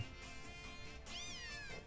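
Litten, the fire cat Pokémon in Pokémon Ultra Sun, gives a single clear wavering meow in the second half, set over steady game music with no talking.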